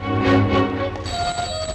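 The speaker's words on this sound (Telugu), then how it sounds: "ఫోన్ అవుతుంది." A telephone rings in a movie climax scene, bright repeated ringing tones that are loud and close, with no voices.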